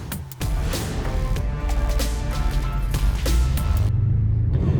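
A BMW performance car with over 600 horsepower drives along, its engine giving a steady, deep rumble from inside the cabin that holds a constant level throughout.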